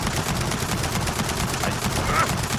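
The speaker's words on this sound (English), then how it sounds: "Don't let that turret pin us down!" Rapid turret gunfire in Gears of War 4 keeps up a dense, continuous rattle throughout, loud and steady, with battle noise and a hint of voices mixed in.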